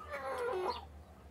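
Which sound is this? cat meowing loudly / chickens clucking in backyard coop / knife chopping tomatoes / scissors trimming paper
chickens clucking in backyard coop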